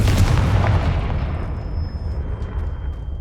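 A single loud, close explosive boom from the Confringo fire spell in the video game Hogwarts Legacy, starting with a sharp blast and fading into a long rumbling tail.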